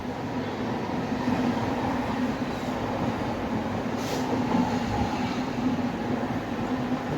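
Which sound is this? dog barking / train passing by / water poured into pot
train passing by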